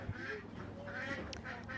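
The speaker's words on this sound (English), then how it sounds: "Oh, those ducks." Farmyard ducks quack in a series of nasal calls over steady outdoor background noise. The calls are moderately close and overlap loosely, with no voices.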